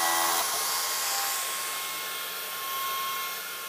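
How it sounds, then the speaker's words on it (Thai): Automatic vacuum cleaner running alongside a jigsaw on a cutting job, a steady loud whooshing motor drone holding evenly for a few seconds, with no speech. "ครับเดี๋ยวเราจะลองใช้ร่วมกับเครื่องดูดฝุ่นนะครับอันนี้เป็นออโต้นะครับเครื่องดูดฝุ่น"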